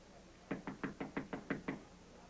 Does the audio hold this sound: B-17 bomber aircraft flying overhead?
no